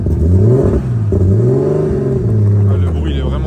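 A BMW E36 with a turbo engine swap revving at close range, a loud muffled drone that climbs and dips over a few seconds, with a voice speaking over it.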